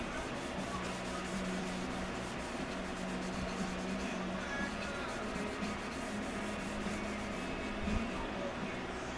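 Finish slopped onto a wooden bucksaw with a brush, a steady close scratchy swishing that runs continuously under a faint low hum.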